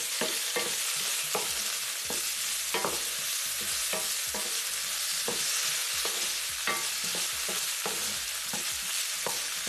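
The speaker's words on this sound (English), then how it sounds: "Let it fry for a bit because," Carrots frying in a pan for Ghanaian jollof, after shrimp have been cooked in it: a continuous close sizzle punctuated by regular, rhythmic scraping stirs, with no voices.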